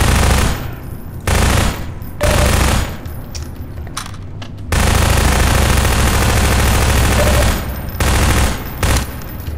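Car-mounted gun in Half-Life 2 firing in long rapid bursts, loud and close, broken by several short pauses before resuming.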